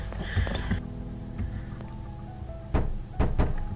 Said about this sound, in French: je vais claquer la porte au nez